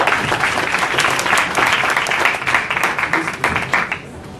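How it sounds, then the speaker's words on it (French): An audience at a startup pitch marathon gives steady, dense applause as a young entrepreneur is welcomed to present his paper company, fading out near the end. "On peut l'applaudir."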